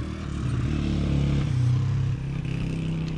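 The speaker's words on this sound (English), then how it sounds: "Pretty much all motorbikes out here." Motorbikes ride along a road in a Pakistani border area, engines droning and revving close by, with faint clatter from the road over several seconds.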